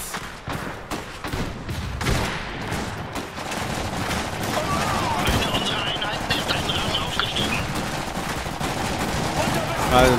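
Dense, continuous bursts of gunfire and booming artillery-like blasts from the video game Iron Harvest fill the mix, rolling on without pause, with German voices talking over the battle noise.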